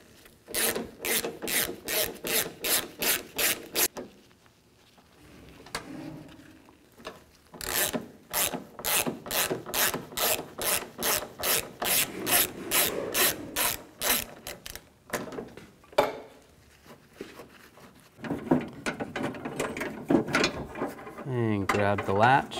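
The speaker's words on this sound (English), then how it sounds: "Take a T30 socket and take these three bolts out." A ratchet with a T30 socket backs out door latch bolts on a 2007-2014 GMC Sierra 3500, sounding as long runs of rapid, evenly spaced clicking close up, broken by brief pauses and softer handling noise.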